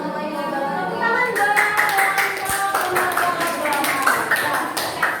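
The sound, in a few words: audience applause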